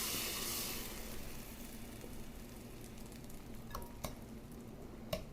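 Cinnamon-soaked brioche slices sizzle and fry in a pan for French toast, a steady, fairly quiet hiss with a few soft clicks and pops near the end.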